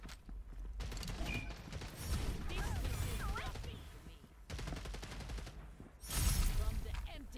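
Rapid automatic gunfire in the shooter game FragPunk crackles in dense bursts with shorter volleys and ricochet-like whines, loud and close, with brief pauses between bursts.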